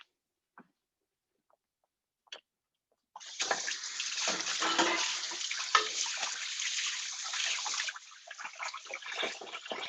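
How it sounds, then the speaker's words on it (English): After a few faint clicks, a tap opens and hands are rinsed under running water, a loud, close, steady rush with shifting splashes that carries on to the end. "I'm gonna give my hands a quick rinse"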